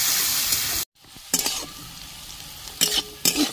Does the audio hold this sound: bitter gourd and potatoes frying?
yes